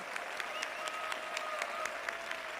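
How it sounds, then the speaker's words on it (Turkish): A small group of people claps steadily together in bright, rapid, close applause that lasts the whole time. "Koca alkış."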